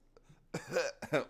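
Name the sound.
cough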